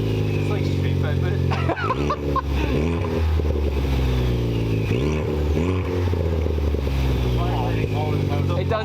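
A motorcycle engine running loud with its exhaust removed, a deep throbbing idle broken by repeated sharp revs, close and raw, with people talking over it.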